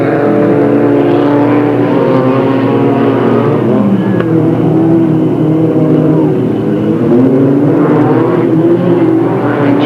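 Stock cars roar around the Delta Speedway oval in a race start, a dense, loud engine drone swelling and fading steadily throughout.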